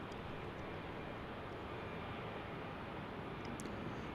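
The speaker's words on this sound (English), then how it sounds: "we've got a CRJ 700 headed to Phoenix" Steady broad roar of a CRJ 700 regional jet at Salt Lake City airport, constant and fairly faint throughout, like distant engine noise with no breaks.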